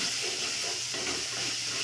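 Tomatoes being sautéed in a pan for a clay-pot chicken curry give off a steady, even hiss that continues without a break.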